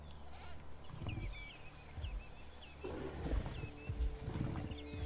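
A goat bleats in the dinosaur park game Jurassic World Evolution, a few short wavering cries over steady ambient game sound and low rumbling, fairly quiet and distant.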